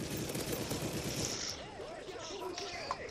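Rapid gunfire from a turret in Call of Duty Modern Warfare 3, a dense crackling burst in the first half that eases off while voices talk over it.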